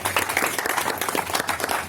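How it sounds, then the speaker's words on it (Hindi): An audience at an Independence Day celebration applauding to welcome a guest, a dense, close burst of many hands clapping that stays steady throughout. "तालियों से जोरदार स्वागत कीजिए"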